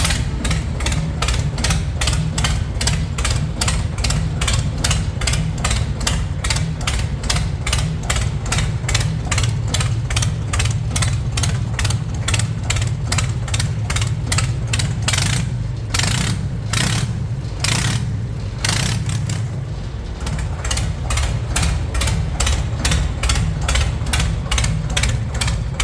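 A modified tractor engine runs close by with a loud, steady, rapid thumping beat, briefly faltering and revving irregularly before settling back into its rhythm.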